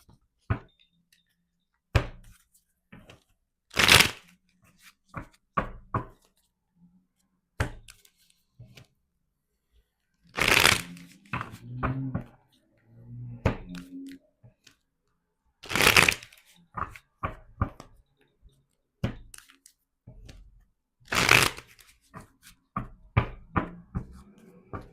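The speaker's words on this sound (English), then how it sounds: "Let's continue the shuffling." Repeated riffling of a deck of tarot cards being shuffled, in short separate bursts with quiet pauses between, close and fairly soft.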